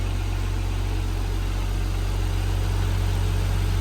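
A Nissan Skyline R34 idles with its clutch fan removed and an electric fan fitted, producing a constant low rumble and exhaust drone that stays steady and close with no talk.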